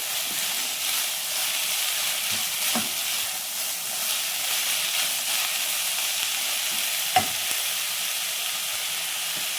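Chopped onions, with green chilies and salt, sautéing in a pan for pepper chicken, a steady soft sizzle and hiss close by with a few faint stirring knocks, no voices.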